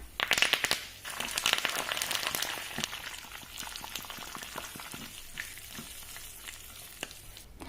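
Millet boils hard in a saucepan, giving a dense, close bubbling and crackling sizzle with occasional stirring clatter that eases slightly toward the end.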